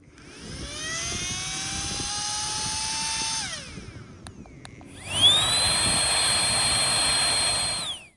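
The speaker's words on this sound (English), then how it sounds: "the Pump Zero does make some noise, but it's not nearly as loud and obnoxious as my old Flextail pump" A Flextail Pump Zero air pump runs with a steady high-pitched electric whine whose pitch climbs and holds, cuts out briefly, then starts again and rises to a sustained drone, moderately loud and close.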